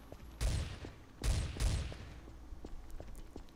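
Gunfire in the video game Trouble in Terrorist Town: three booming shots, the last two close together, fairly faint and heard from behind, followed by smaller scattered clicks and thumps.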